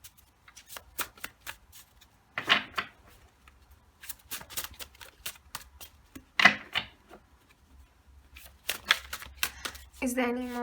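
Tarot cards are shuffled in repeated crisp riffles and taps, close and fairly quiet, with someone speaking between the bursts of shuffling.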